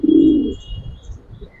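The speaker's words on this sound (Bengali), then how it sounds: "মাদিরা সম্পূর্ণ একটা তোতা ফেজের মাদি ভাই" A Giribaz pigeon gives a single short, loud coo close by, and a quiet pause follows.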